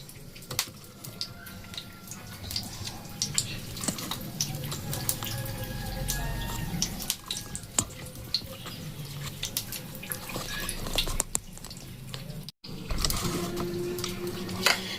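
Paneer cubes frying in hot oil with a dried red chilli in a home kitchen give a steady, fairly quiet sizzle with scattered crackles and pops. There is a brief dropout near the end.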